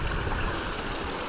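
A mountain stream runs out from under a mountain in the Altai near the North-Chuya range, giving a loud, close, continuous rushing babble with no voices.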